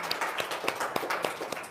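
Scattered audience clapping after a host's call in an Indonesian talk-show setting, sparse separate claps at an uneven rhythm, moderately close, with no voices.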